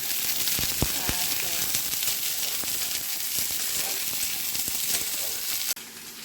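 Whole spices and onion hit hot oil in a home kitchen while a Bengali prawn and pumpkin fritter curry is being made, giving a steady, close, bright sizzle with small crackles throughout.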